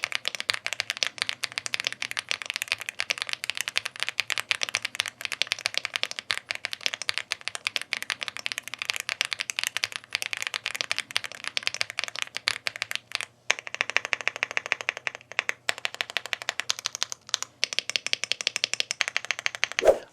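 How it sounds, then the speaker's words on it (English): Rapid, continuous clacking of an Ajazz AK820 Pro mechanical keyboard, close and crisp, with brief pauses near the end. "very proper mechanical keyboard sound"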